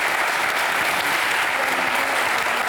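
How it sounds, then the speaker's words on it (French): A television studio audience gives steady, dense applause for the guests of a talk show, loud and continuous throughout with no break. "des applaudissements pour nos invités qui sont bien courageuses"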